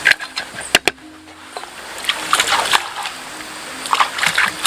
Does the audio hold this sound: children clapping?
no